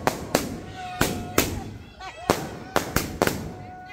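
Sharp New Year firecracker bursts crack one after another in a neighborhood street, about a dozen loud pops in irregular bunches with short echoing tails, while people talk and shout in the background.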